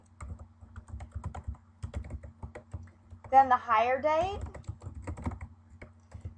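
Rapid clicking of computer keys comes in bursts, with a person speaking briefly in the middle of the typing.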